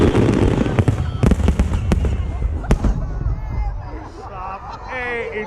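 A professional fireworks show booms and crackles with a rapid series of sharp explosions, fading into fizzing sparkles, while a crowd murmurs and someone speaks nearby.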